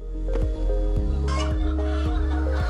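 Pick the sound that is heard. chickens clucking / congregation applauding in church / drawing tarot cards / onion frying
chickens clucking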